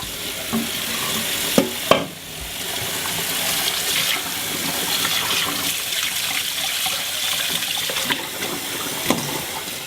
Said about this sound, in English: drain and rinse them off with some cold water